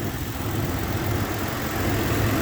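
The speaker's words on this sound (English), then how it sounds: "it's an engine, it's running super healthy. No weird vibrations or anything." A 2023 Toyota Tacoma engine idles with a steady, close rumble and broadband hum that holds even throughout, with no other sounds.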